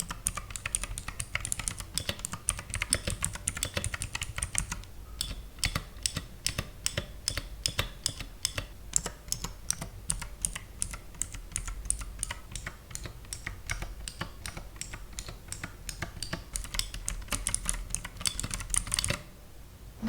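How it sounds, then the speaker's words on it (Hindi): A Zebronics Zeb Max Ninja 61 mechanical keyboard with blue switches is typed on steadily for about twenty seconds, giving dense, crisp, loud clicks at close range with brief pauses between bursts and no voices. "तो टाइपिंग में ये ब्लू स्विचेस का परफॉर्मेंस काफ़ी अच्छा है"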